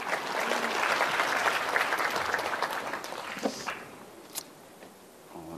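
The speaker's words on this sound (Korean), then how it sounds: "박수 좀 한번 부탁드립니다." A large lecture-hall audience of about a thousand people claps at a talk, sustained applause that gradually thins out and fades, leaving scattered claps and quiet room noise.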